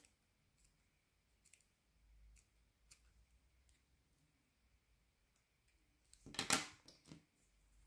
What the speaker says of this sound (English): Then we cut these threads